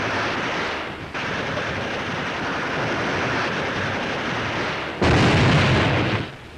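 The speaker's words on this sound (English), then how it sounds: "Hand grenades are effective." Hand grenade blasts in a WWII Pacific battle film set on the Marianas, a dense roaring rumble of explosions that sustains throughout, with a louder heavier burst near the end before fading.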